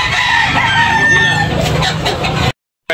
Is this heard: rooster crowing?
yes